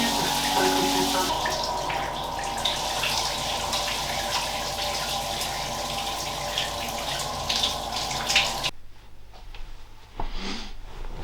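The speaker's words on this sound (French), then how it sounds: "on va prendre une petite douche" A shower runs with a continuous hiss of spraying water, steady and close, then abruptly cuts off near the end, leaving a few faint knocks and rustles.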